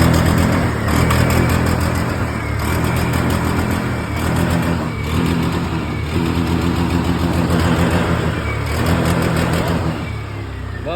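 A motorcycle engine held at full throttle with a faulty throttle position sensor, droning loudly and steadily with a rough, stuttering misfire pulsing through it, no voices over it.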